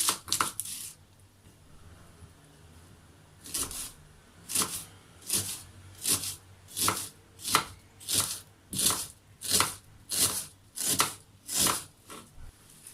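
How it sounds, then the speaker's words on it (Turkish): A knife julienne-slices onions against a board in quick regular strokes, a brief burst first, then a steady run of about a dozen cuts. "İlk önce soğanları jülyen şekilde doğruyorum"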